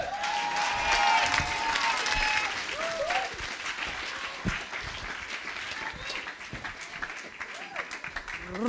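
A church congregation applauds and cheers at a pastor's prompt in a loud, sustained wash of clapping, with scattered shouts and whoops rising above it. The sound fades slightly but keeps going throughout.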